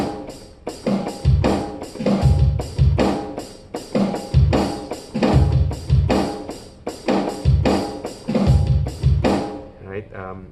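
A drum kit plays the groove for a song at full normal speed. A repeating pattern of punchy low kicks and bright cymbal and snare hits carries on for about ten seconds, close and loud.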